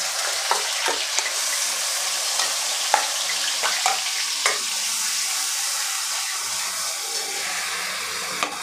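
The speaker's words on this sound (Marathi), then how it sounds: "आता तेल गरम झालं त्यानंतर आपल्याला यामध्ये घालायचं आहे जे आपण वाटण केलेलं आहे ते वाटण आपल्याला यामध्ये घालून घ्यायचं आहे" Ground masala paste for an egg masala curry frying in hot oil in a pan gives a steady close sizzle, dotted with sharp spitting pops and crackles throughout, with no talking.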